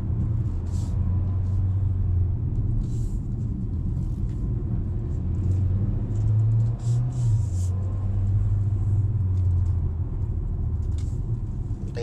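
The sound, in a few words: GAC Empow car accelerating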